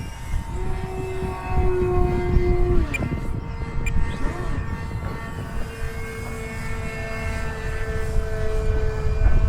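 A Flex Innovations Mamba 10 G2 RC airplane flies overhead, its electric motor and propeller giving a continuous buzzing drone that shifts pitch as throttle and distance change, heard alone over outdoor wind.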